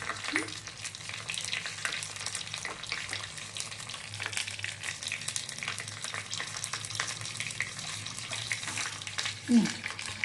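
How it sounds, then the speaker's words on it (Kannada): Cumin and mustard seeds crackle and pop in hot oil in a pan, a dense, continuous spattering sizzle held close for several seconds, with one brief louder clatter near the end. "ಜೀರಿಗೆ ಸಾಸಿವೆ ಹಾಕ್ತೀನಿ ಎಸ್ ಇನ್ನೆಲ್ಲ ಚಟ ಚಟ ಅನ್ಬೇಕು"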